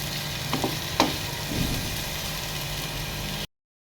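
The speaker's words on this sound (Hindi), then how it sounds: "प्याज़ों को हल्का सा हम फ्राई करेंगे।" Onions fry lightly in a pan with a soft, steady sizzle over a low background hum, a few brief louder crackles near the start, then a sudden cutoff.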